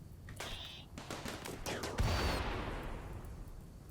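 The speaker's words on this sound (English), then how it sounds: "Martin just got shot by my own turret" Turret gunfire in the colony game RimWorld: a cluster of quick distant shots, then a louder blast that fades into a washing roar, all fairly faint.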